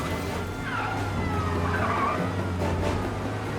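Car engine drones steadily in Mafia: Definitive Edition with a tire skid sweeping across mid-clip, a continuous close rumble under a chase with police nearby.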